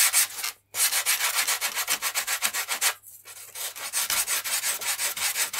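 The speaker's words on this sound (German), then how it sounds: "wir müssen die Oberfläche eh ein bisschen anschleifen" Hand sanding of a wing repair surface coated with epoxy and fabric, a steady rhythmic rasping back-and-forth scrubbing with two short pauses, close and loud, no talking.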